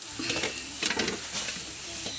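Mustard seeds and a dried red chilli sizzle and crackle in hot oil, tempering for a prawn curry, in a close burst of spattering that swells briefly and then settles.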